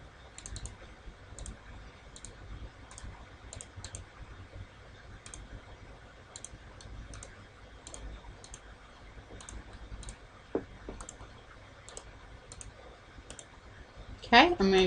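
Buttons on a statistics calculator are pressed in steady runs of light, crisp clicks while numbers are typed into a list, with short pauses between entries and a louder clatter near the end.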